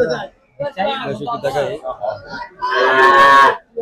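Cattle at a busy rural cow market, with one loud drawn-out moo near the end following stretches of people talking nearby.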